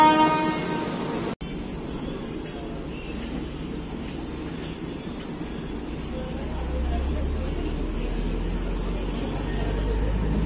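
Special fare express train to Jabalpur pulling out of Madurai station on its inaugural run, a steady loud rumble of rolling wagons with a low heavy drone building near the end, after a brief cut at the start.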